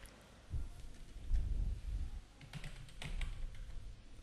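Typing on a computer keyboard, a quiet close-up patter of key clicks in short irregular bursts over a soft low background.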